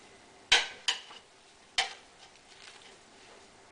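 Chicken, roast beef, cabbage and sauerkraut are stirred together in a large pot for hunter's stew: three sharp scraping clanks of a spoon against the pot, then softer, quieter stirring sounds trailing off.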